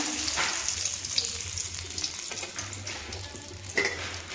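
Dried red chilies and leaves crackle and sizzle in hot oil in a home kitchen pan for a vegetable and dal dish, a steady close frying hiss with a few sharper pops and faint stirring.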